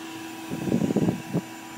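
A shop vac blows air into a ceramic dome for a glaze firing, a steady whooshing hum with a brief louder rumbling surge in the middle.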